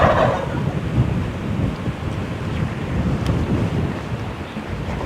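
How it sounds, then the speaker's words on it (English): Several wild turkey gobblers sounding off from their roost beside a corral in spring woods, distant and overlapping, partly masked by steady wind noise. "it triggered something that made all these gobblers sound off, and they are roosted right next to this corral."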